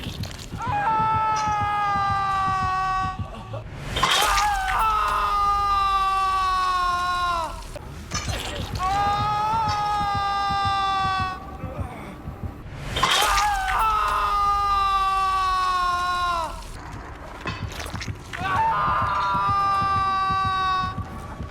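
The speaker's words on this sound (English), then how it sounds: "A lot of people think it's Felix based on the sounds of his scream and his boots" A hooked survivor screams repeatedly in a Dead by Daylight Resident Evil teaser, a man's loud drawn-out agonized yells in several long bursts separated by short pauses, over low ominous rumble and crashing impacts.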